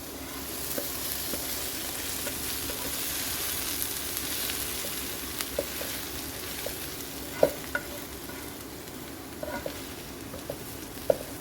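A lentil mixture is stirred in a pan, with a soft continuous sizzling bed and scattered light scraping clicks and taps from the spoon, fairly close and moderately quiet.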